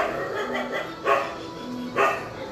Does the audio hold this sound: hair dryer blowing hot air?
no